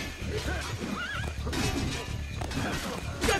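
A horse whinnies in Assassin's Creed 2 in a rising, wavering call, with hoof clatter and background game sounds around it.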